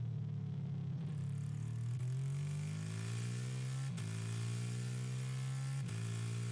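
A Formula 3 race car engine howls steadily during pre-season testing at Barcelona. The high-revving note climbs through upshifts, with brief dips about every two seconds, and sounds continuous and somewhat distant, as if from a broadcast feed.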